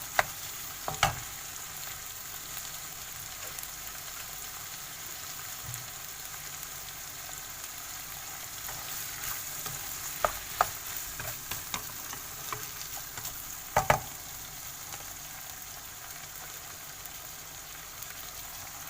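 Tomatoes frying in a pan for stir-fried macaroni with minced pork, a soft steady sizzle with scattered crackles and a few sharp utensil knocks against the pan, no voices.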